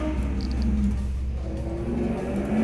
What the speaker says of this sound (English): Jeez, loud cars.